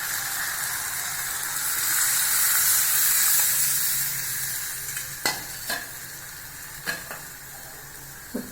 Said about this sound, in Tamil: இப்போ நம்ம புளி ஊற்றிடலாங்க